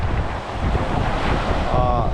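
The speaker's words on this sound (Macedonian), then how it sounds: "гледате колкави бранови има" Sea waves break and wash steadily on the beach at Bar, Montenegro, a continuous loud roar of surf mixed with buffeting wind on the microphone, with no clear pauses.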